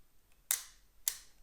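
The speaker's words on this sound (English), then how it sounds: "The shutter is cocked, and now we can release the shot." A Rolleiflex 2.8 GX medium format film camera fires its shutter twice, each release a sharp, close mechanical click with a short bright tail, spaced about half a second apart in a quiet room.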